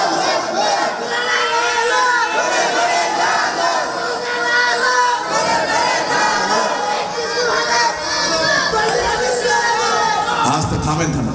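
A large crowd at a Bengali Islamic sermon chants takbir together, a loud, continuous mass of shouted voices rising and swelling in rough unison throughout.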